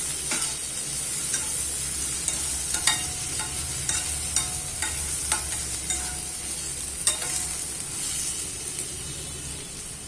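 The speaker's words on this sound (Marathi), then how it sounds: "आता आपल्याला टोमॅटो टाकायचा आहे, तो पण आपल्याला 2-3 मिनिटं परतून घ्यायचा आहे छान तेलामध्ये।" Chopped tomatoes frying in oil for street-style egg bhurji, a steady close sizzle broken by the sharp scrape and tap of a spatula stirring the pan every second or so.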